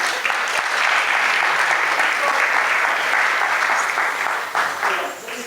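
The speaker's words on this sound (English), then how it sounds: "Clap your hands." Steady applause from an audience welcoming performers after a cultural dance at an ISKCON Chicago community event, a dense sustained wash of clapping that holds for several seconds, with faint voices mixed in.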